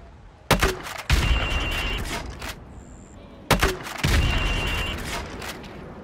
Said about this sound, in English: Right, now pop a grenade into windows 5,